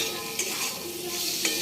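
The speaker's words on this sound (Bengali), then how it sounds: "ধোকার জন্যে আলু, ধনে জিরে গুঁড়ো, আদা বাটা, টমেটো সব দিয়ে এবার আলুটাকে কষে নিচ্ছি" Potatoes frying with ground coriander, cumin, ginger paste and tomato in a pan for dhokar dalna, a soft steady sizzle with a couple of faint stirring scrapes, fairly quiet, no voices.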